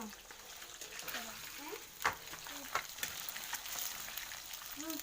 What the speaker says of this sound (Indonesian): Niki bumbu selanjutnya wonten brambang, bawang, kunir, lombok, laos, jahe, sereh, godhong jeruk, digoreng setengah mateng.